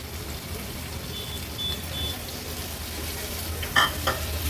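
Paneer pieces being stir-fried in homemade Agri Koli masala give a soft, steady sizzle, with a few brief clinks and scrapes near the end, and no voices.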